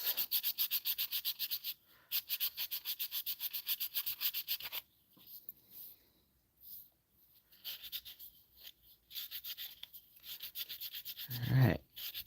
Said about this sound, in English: I just got to sand the other one in